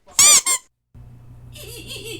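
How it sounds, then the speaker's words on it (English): A squeaky rubber-duck sound effect dubbed over cursing: two quick, loud, high squeaks, a brief gap, then a lower, wavering squeak trailing off. "I'm putting little duck squeaky noises over the curse words."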